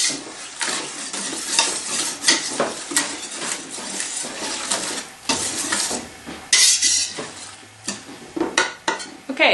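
Spoon stirring pectin into a pot of orange rhubarb jam, scraping and clinking against the pot in irregular strokes, close and fairly loud.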